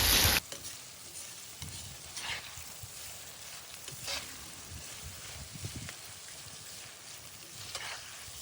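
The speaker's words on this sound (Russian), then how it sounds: "Жарим теперь вместе с луком, чтобы лук тоже хорошенечко пожарился." Onions and meat for plov sizzle and crackle steadily in a kazan over a strong wood fire, a close, continuous frying hiss with small pops, no voices.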